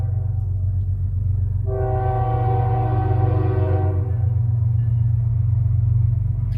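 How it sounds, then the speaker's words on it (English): A train rolls past a house with a heavy, steady low rumble throughout, while a loud sustained horn blast sounds for about two seconds in the middle, close and dominating. "This train go by my house."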